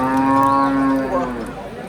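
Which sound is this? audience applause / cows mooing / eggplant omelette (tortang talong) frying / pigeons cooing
cows mooing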